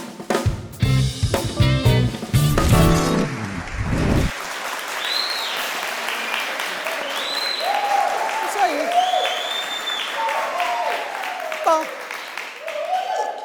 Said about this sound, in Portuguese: estes aplausos eu tenho certeza que não é para mim, é para o nosso convidado especial, o pastor Daniel Nogueira